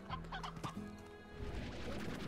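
Chickens cluck in the ranching game Slime Rancher, a steady run of close, busy clucks and squawks from several birds over a dense ambient game background, with no talk.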